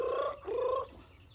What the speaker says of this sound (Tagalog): Para ang mga manok mga kamads,